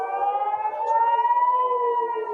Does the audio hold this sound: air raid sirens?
yes